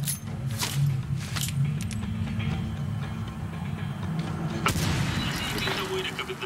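Gunfire from the video game Medal of Honor: Warfighter during a training shooting exercise: a few loud sharp reports, one standing out, over a steady rumbling background with no talking.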